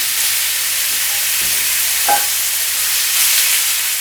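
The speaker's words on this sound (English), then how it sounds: "we're going to stir fry the beef a little bit first" Beef stir frying in hot oil in a pan over a flame, a steady broadband sizzle throughout with a couple of brief clatters as the meat is moved.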